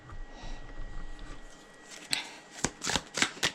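Tarot cards being shuffled by hand, first as a soft rustle and then as several quick, close riffling bursts, with no talking.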